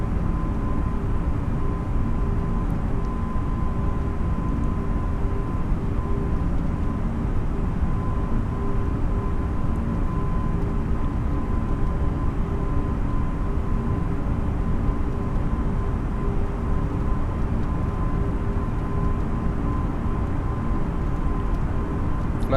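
An Airbus A320neo's engines run at climb thrust in Microsoft Flight Simulator, a constant, even roar with a faint steady whine that holds unchanged throughout.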